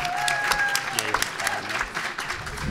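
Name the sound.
audience applause and cheering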